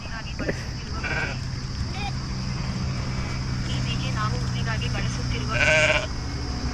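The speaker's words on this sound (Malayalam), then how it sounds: "ചെമ്മരിയാട് തന്നെ നമ്മൾ കണ്ടുപിടിച്ചിരിക്കുന്നു." Sheep bleat in short bursts near and far, with vehicle rumble underneath during a road trip in Goa, and the loudest bleats come near the end.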